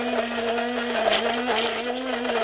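A blender pureeing California raisins with a handful of capers, its motor whirring in a steady high drone with a slight wavering pitch, close and fairly loud.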